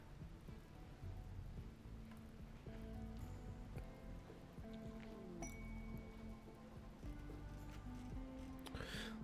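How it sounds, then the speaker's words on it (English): Steady rain falling in the video game Rimworld, a continuous soft hiss of drops on surfaces with faint tonal game sounds layered underneath throughout. "Hopefully the rains will last long enough to actually douse the fire."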